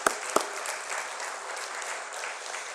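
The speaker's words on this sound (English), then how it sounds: "Round of applause for the sponsors too and everybody." Applause at a luncheon for the event's sponsors, a soft, steady patter of many hands clapping at a distance, opened by a couple of sharper nearby claps.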